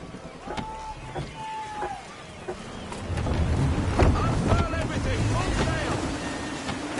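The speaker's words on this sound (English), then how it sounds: "Wind looks to be shifting. Stay alert, Connor. Gusty winds can be difficult to manage." Gusty wind at sea while sailing a ship in the game Assassin's Creed 3, a rushing, buffeting roar that swells louder midway and stays heavy to the end, with faint tonal cues and brief distant voices over it.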